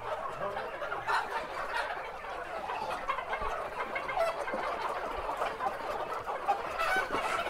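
Chickens on a local chicken farm, a flock clucking and chattering continuously, with busy overlapping calls at moderate distance and no talking.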